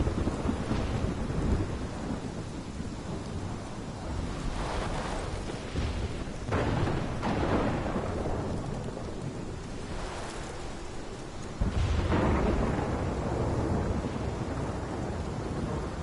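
A heavy thunderstorm rages in Life is Strange, with loud rumbling thunder rolling repeatedly over constant dense rain, strong bursts around the middle and near the end.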